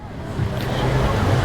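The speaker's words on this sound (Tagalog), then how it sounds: "Lakas ng alon o" Loud rushing surf at a beach in Tagkawayan, with a steady roar of strong breaking waves, wind noise buffeting the microphone and voices faintly mixed in.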